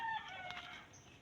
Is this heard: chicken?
yes